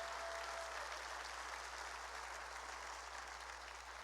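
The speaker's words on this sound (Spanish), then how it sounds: "démosle fuerte, fuerte, fuerte ese aplauso" A church congregation applauds together, a dense continuous wash of clapping that holds steady for a few seconds, somewhat distant and muffled, with a low hum beneath.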